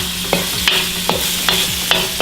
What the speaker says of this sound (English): So you don't want the garlic to burn too much. We're gonna let that saute a bit.